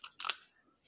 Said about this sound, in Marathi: पुऱ्याला होल पाडून घेऊ